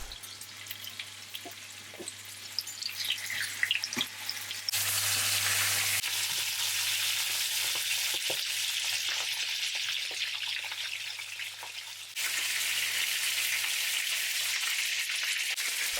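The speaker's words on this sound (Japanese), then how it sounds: "さあ、お肉を焼き始めますよ。 これは皮の方から焼きます。" Chicken pieces frying skin-side down in garlic-infused oil, a steady bright sizzle that surges louder when the meat hits the pan, with scattered pops and crackles and no talking.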